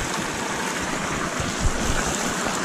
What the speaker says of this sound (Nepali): तिमीलाई बगाउँछ होला खोला बगाउँछ होला झर्ना